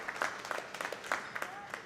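Light applause from a squash match crowd follows a nice touch shot, a scattered patter of claps over a couple of seconds at moderate distance.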